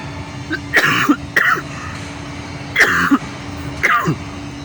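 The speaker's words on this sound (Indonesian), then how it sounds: "Batuk." Four short, sharp coughs in two pairs, close and distinct, separated by brief quiet gaps.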